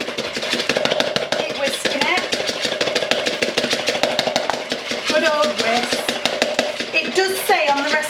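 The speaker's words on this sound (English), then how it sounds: "So basically you give that a whisk" A hand whisk beats jaffa cake mixture in a bowl in a dense, steady flurry of rapid scraping clicks that continues throughout, with occasional faint tonal squeaks near the end.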